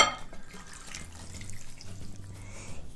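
Water is poured into a bowl of waffle batter along with eggs and oil, a soft steady trickle and splash lasting about three seconds, close by and moderately quiet with no talking.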